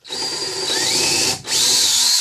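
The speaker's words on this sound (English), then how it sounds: "we'll probably try to drill straight" A power drill bores a hole straight into wood while building a cyclone dust collection cart, running close and loud in two sustained bursts separated by a brief pause.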